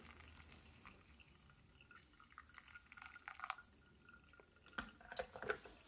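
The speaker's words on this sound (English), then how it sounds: "The dripping speed isn't the best. It's sort of slow." Pour-over coffee slowly dripping through a Bodum double wall coffee maker: faint, sparse drips landing into liquid in a quiet room, irregularly spaced and growing slightly busier toward the end.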